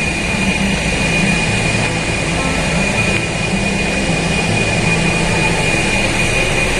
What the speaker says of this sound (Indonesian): pembangkit listriknya ya, mesinnya lagi ribut nih